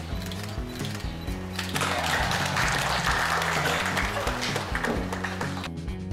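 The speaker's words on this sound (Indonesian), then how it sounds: "Ayo kita tepuk tangan" Crowd applause swells at a greenhouse inauguration ceremony for a university agriculture faculty, a dense sustained clapping wash laid over steady background music with a sustained tonal bed, fading somewhat toward the end.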